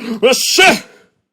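A storyteller voices an exaggerated, theatrical sneeze: a short breathy wind-up, then a loud, close burst that trails off quickly into silence.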